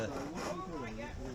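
A roughing gouge cutting a spurtle on a wood lathe gives a steady rasping scrape, constant and close, while someone talks over it.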